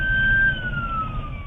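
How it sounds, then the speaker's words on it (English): A police siren wails steadily in Shreveport, its pitch sliding slowly downward, over a low rumbling background. "with sirens blaring"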